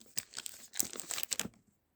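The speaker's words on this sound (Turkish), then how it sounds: "normal snickers paketi açıyorum" Crinkly plastic wrapper of a Snickers ice cream bar being torn open, a quick sequence of close crackles and rustles lasting about a second and a half, then quiet.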